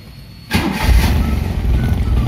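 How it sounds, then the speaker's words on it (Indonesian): A Daihatsu Ceria car engine cranks and catches about half a second in, then settles into a steady, close idle. "kita langsung starter mobil"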